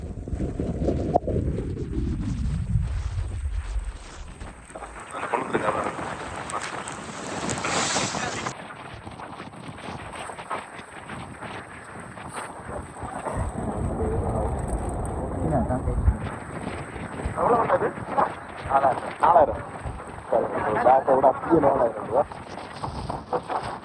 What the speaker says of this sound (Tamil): பயங்கர காத்தா இருக்குது